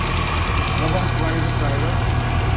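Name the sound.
R53 project car engine being revved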